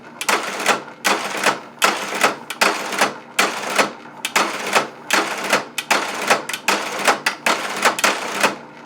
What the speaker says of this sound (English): you come over to this machine that sews underneath